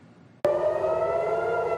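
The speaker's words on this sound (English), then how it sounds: "air sirens once again rang out in Tel Aviv" Air raid sirens wail in Tel Aviv during the war with Iran, a loud sustained civil defense siren tone starting abruptly and holding steady without speech.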